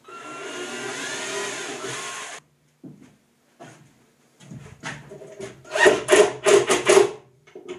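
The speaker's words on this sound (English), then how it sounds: "I can go ahead and drill the rest of the holes without putting the screws in." Power drill boring holes in a hardwood display case: a steady whine for about two seconds, silence, then short buzzing bursts building to louder, rapid pulses near the end.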